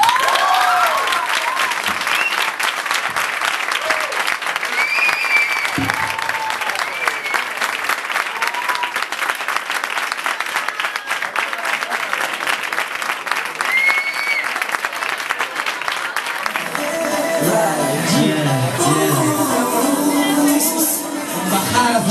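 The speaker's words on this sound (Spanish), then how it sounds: "Un muy, muy, muy gran aplauso para John Dreamers." Loud, sustained audience applause and crowd noise at a talent contest as the winner is announced, steady throughout, with music and singing starting near the end.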